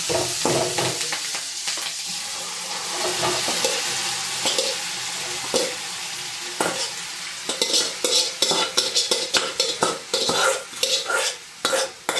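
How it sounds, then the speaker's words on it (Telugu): Boiled chicken stirred into a frying masala pan, loud continuous sizzle with repeated close scraping and clattering stirs that grow busier toward the end, no talking. "మనం ఇందాక ఉడకబెట్టుకున్న చికెన్ని ఇప్పుడు ఇందులో కలుపుకోవాలి."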